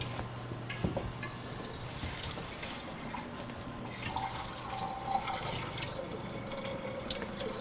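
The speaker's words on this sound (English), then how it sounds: "pour the oil" Oil is poured slowly from a pan into a sink drain, giving a soft, continuous trickle and gurgle with a few faint drips and clinks over quiet room tone.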